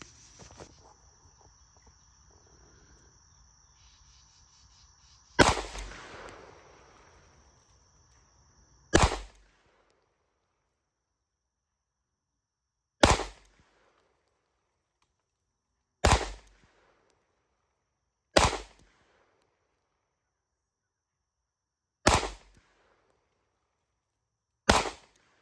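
Glock 45 pistol fired at an outdoor range from 12 yards: seven sharp, loud single shots spaced several seconds apart, each ringing out and decaying quickly over quiet background.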